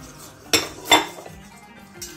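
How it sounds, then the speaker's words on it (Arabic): A spoon clinks twice against a pot while sugar is stirred into cream for a chocolate mirror glaze, two sharp metallic knocks close together followed by quieter scraping and a faint tap, with no voices. "غنبقى نحرك باش يدوب ليا واحد السكر"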